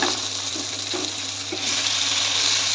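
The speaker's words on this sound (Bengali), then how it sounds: "পরপর 4টে মাছই ভেজে নেবো এইভাবে" Prawns fry in a pan of hot oil with a steady, dense sizzle and crackle that runs throughout the clip, close up and fairly loud, with no talking.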